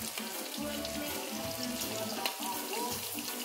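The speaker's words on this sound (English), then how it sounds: "That's the way you fry chicken." Chicken pieces fry in a pot of hot oil, giving a steady, close bubbling hiss that rises and falls slightly, with a brief crackle burst midway and no talking.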